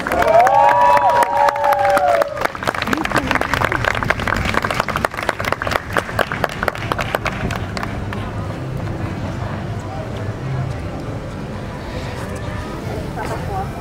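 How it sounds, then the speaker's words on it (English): A performance-program audience bursts into applause and cheering, loud dense clapping and whoops at first with voices on top, then thinning out as the ovation fades. "Let's give him another huge round of applause."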